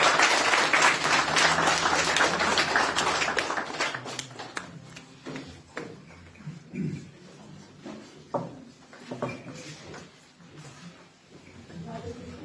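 Applause from guests at a Slovak wedding ceremony fills the first few seconds as a dense, continuous wash, then fades out while people begin speaking over sparse taps and movement.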